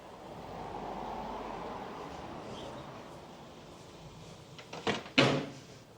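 Outdoors beside a custom pro-touring car at a Texas shop, a locked door handle is pulled, giving a couple of short, sharp clunks near the end after a stretch of soft ambient noise.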